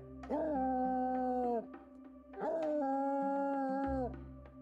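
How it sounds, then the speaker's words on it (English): A hound dog bays like a bloodhound in two long, drawn-out howls, separated by a short pause, heard close and loud with no other sounds. "they begin to bay. That's that sound a dog makes, like a bloodhound."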